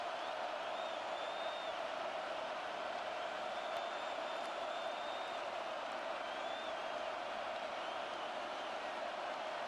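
A stadium crowd in Madden NFL 26 cheers in a steady, broad roar that holds at a constant level throughout, with faint whoops rising above it.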